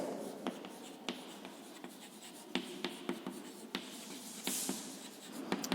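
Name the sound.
teacher writing notes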